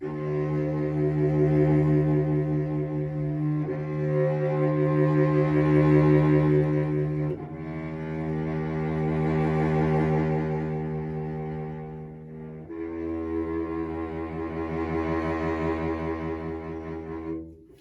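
A bowed string instrument sustains long notes with wavering vibrato that alternates between slow, wide swings and faster, narrower ones, played alone at moderate volume.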